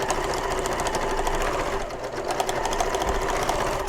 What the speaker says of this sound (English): I like to sew over this seam again and make sure that I stitch nice and securely over the pleats